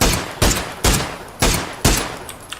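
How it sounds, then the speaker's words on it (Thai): Gunfire in PUBG: five loud, evenly spaced single shots with sharp attacks and decaying tails, close and dominant, no talk over them. "มีคนยิงพี่"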